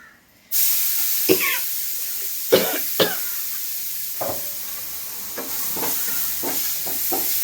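Several short, sharp coughs set off by cooking fumes, scattered over a steady hiss like food frying, some coughs close together and others spaced apart.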